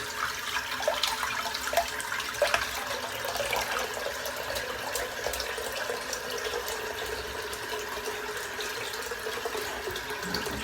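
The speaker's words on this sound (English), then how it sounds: "So let's fill the sink up" Water runs from a tap into a sink outdoors in the cold Arctic, a steady faint splashing and trickling stream throughout, with no voices.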